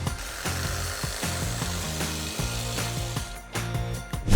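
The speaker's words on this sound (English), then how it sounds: "this is where I like to use the rotating handle to get the best grip as I'm cutting down the side of the hedge" A hedge trimmer cuts down the side of a hedge, its rapid reciprocating blades giving a loud, continuous buzzing chatter with rhythmic clicking as the blades chew through branches.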